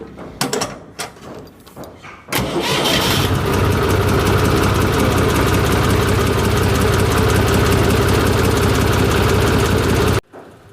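A John Deere 5041C tractor engine with a newly installed battery cranks with a few clattering bursts, catches, and settles into a loud, steady, rumbling idle before cutting off abruptly.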